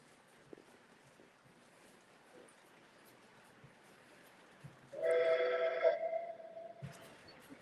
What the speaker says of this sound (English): I can hear the whistle.